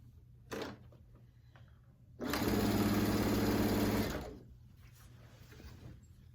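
A sewing machine stitches a quilt top in one steady burst of about two seconds, a close, loud, even mechanical whir that starts abruptly and winds down, with quiet room sound and a small bump before and after.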